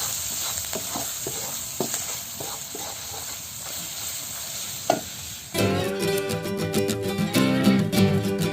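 Khichdi with turmeric being stirred in a cooking pot: scraping stir strokes over a steady frying sizzle, then the stirring gives way to music.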